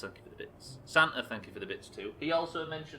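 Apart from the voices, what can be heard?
No everyday noise stands out behind the speech.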